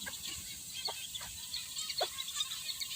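Chickens clucking softly on a Philippine backyard farm, a hen's chick among them, a few short clucks and chirps spread over a quiet, hissy background.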